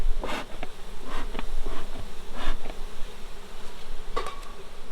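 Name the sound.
honey bees buzzing around a beehive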